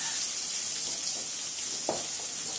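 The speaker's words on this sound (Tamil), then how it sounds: "தக்காளியை போட்டு நல்லா நம்ம வந்து வதக்கிடுவோம்" Tomatoes and onions sauté in a pan for an okra stir-fry, giving a soft, even sizzle with a couple of faint stirring scrapes, close by and without speech.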